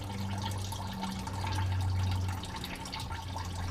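Diesel fuel drips from the filter housing of a Ford F350 with the 6.7L engine into a catch pan, a faint steady trickle and patter under a low droning hum in a garage.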